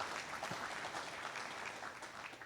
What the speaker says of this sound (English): let's have a round of applause for Nick being the irrigated winner